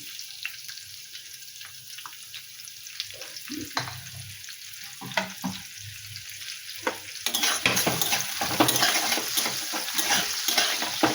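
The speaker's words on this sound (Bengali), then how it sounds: "পেঁয়াজটা ভালো করে ভেজে নিই পেঁয়াজ আলু একটু ভালো করে ভেজে নিই" Onion and potato frying in oil in a pan after chili and cumin go in, a soft steady sizzle with occasional stirring clinks that grows louder and busier toward the end.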